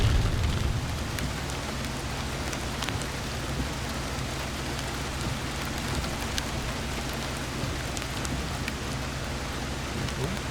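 Steady rain falls outdoors at Fort McCoy, Wisconsin, a constant soft hiss of drops on surfaces with scattered louder patters, heard alone.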